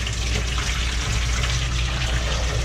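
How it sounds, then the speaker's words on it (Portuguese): Dirty water is tipped out of a bucket and gushes in a steady, dense, fairly loud pour that runs for a few seconds without a break, with no voices. "Ó pessoal, então eu vou jogar a água fora."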